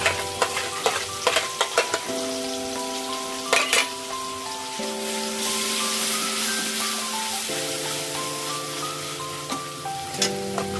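Onion paste added to mutton in a hot pan for mutton kasa, a soft steady sizzle with scraping stir strokes, near and fairly quiet, with a sustained instrumental tone running underneath.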